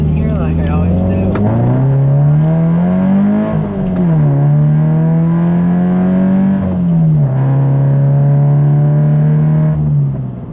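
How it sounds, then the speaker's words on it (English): A Subaru BRZ engine pulls hard through the gears, its note rising steadily, dropping at each shift and climbing again, loud and close from inside the car with no talk over it. "I'll leave you guys with a nice little acceleration here like I always do"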